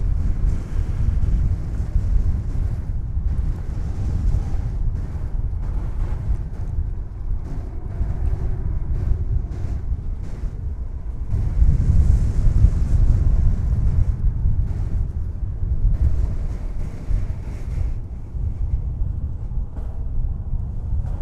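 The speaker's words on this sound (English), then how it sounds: "Oh, wind, please stop." Strong wind buffets the microphone outdoors at an airport, a loud continuous low rumble with gusts that swell and ease, no voices.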